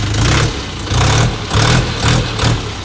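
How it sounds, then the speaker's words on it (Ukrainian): A cold Lovol 354 tractor diesel engine idles close by, steady and loud with a regular pulsing throb that swells roughly twice a second, with no talk. "Мотор працює дуже класно, рівненько, без рівків, без пинків"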